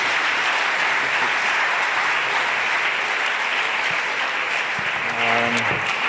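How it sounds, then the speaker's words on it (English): Steady, dense applause from an audience at a university orientation event after a presentation, sustained clapping throughout with a brief low voice near the end. "let's give a round of applause to Vivian."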